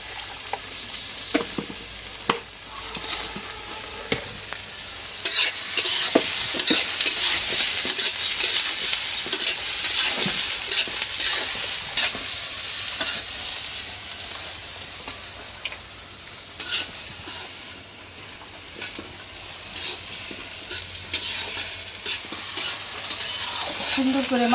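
Whole spices such as garam masala and cardamom, with onions, sizzle and fry steadily in a pot of oil for mutton curry, a close, continuous crackle with faint stirring scrapes and no talking.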